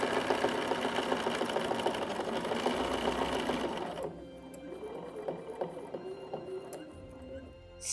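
A sewing machine stitches a quilt guided by a straight line tool, running steadily for about four seconds before stopping, followed by soft handling noises and faint background sounds, close and quiet.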